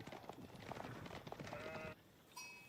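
A sheep bleats in a video game during a competitive strategy match, a brief bleat set among busy game effects and clatter, with a faint voice under it.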